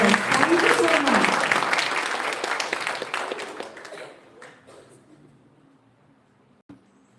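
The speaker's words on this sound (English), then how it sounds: "Big round of applause." Audience applause at an international conference: a loud burst of dense clapping that thins out and fades over about four seconds, with a few scattered claps after.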